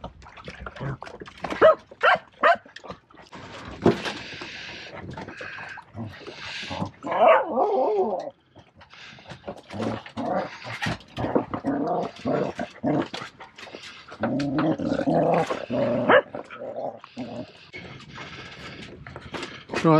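A dog barks, growls and whimpers close by in bursts of sharp yips and rough snarls, with a few short pauses, over about twenty seconds.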